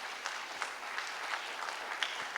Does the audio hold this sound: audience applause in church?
yes